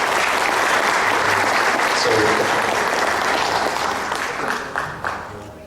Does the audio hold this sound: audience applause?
yes